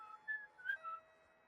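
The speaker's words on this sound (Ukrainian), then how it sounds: "за задумом дівчинка свистить" A girl's whistling in a horror video game, a faint short melodic whistle of a few rising and falling notes in a quiet setting.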